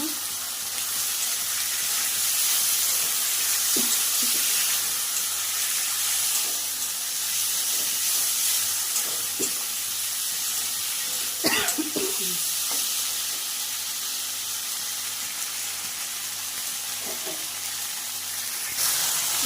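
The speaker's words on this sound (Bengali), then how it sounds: "তোমার আলু ভাজা হয়ে গেছে হলুদ লবণ দিয়ে এখন আমি পুরো মশলাটাই দিয়ে দেবো" Fried potatoes with turmeric, salt and spices sizzling in a pan, a long continuous hiss with scattered stirring clinks and a sharper scrape midway.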